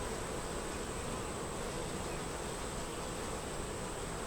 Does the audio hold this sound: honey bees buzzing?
yes